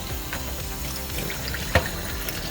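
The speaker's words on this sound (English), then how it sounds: "Pour it down the drain, because it's useless now." Used film developer poured down a drain, a continuous close trickle and splash of liquid with a brief clunk partway through, no talk.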